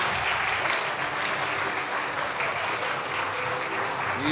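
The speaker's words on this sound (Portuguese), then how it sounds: "aplauda a pessoa que está do seu lado" Audience applause in a church membership class, a dense, even wash of clapping from a room of people, steady and moderately loud with no pauses.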